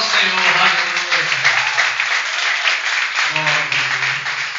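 Church congregation clapping during worship, steady broadband applause running throughout while a voice sings or speaks over it, fairly loud and close.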